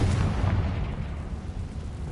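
A Confringo blast spell in the Hogwarts Legacy video game gives a deep, rumbling explosive burst that rolls on and fades over a couple of seconds, heavy in the low end.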